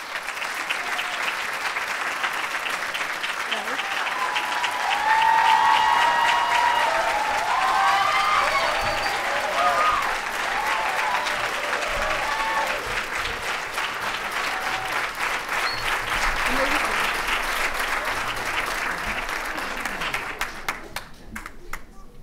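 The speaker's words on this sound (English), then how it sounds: "can the audience please give them a round of applause" Sustained audience applause fills a school graduation ceremony for an eighth-grade class, a dense wash of clapping holding steady for about twenty seconds, with faint voices and cheers mixed in before it tapers off at the end.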